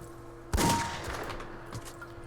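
A single sharp, loud Desert Eagle pistol shot in Modern Warfare, with a brief echoing tail and a faint later pop, with no talking.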